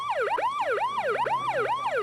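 A loud ambulance siren sounds close by, its rapid rising-and-falling electronic wail cycling about twice a second without pause, with no voices over it.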